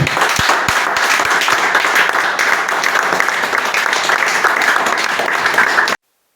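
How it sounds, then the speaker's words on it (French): Audience applause for the transitional president and head of state at an electoral list revision event in Ntoum, sustained crowd clapping throughout, loud and dense, then cutting off abruptly. "Maintenant, applaudissez pour le président de la transition, président de la République, chef de l'État."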